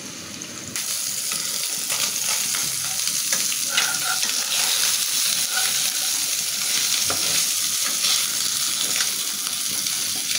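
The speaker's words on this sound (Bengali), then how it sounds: "তেলটা গরম হয়ে গেছে, এখন আমি মাছটা ভাজে নেব হালকা করে।" Shing fish frying lightly in hot oil, giving a steady, continuous sizzle and crackle close by, with faint stirring and spatter pops and no talk.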